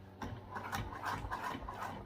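A sewing machine runs quietly, top stitching a visible seam at one-eighth inch on a fabric baby sling, giving a soft, steady mechanical whirr and clatter with no talking.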